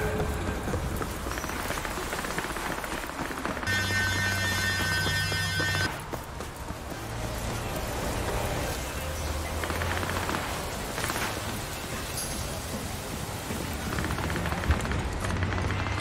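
Steady rain falls across a city scene in the video game Cyberpunk 2077, a constant wash of noise mixed with game music and other ambient effects throughout.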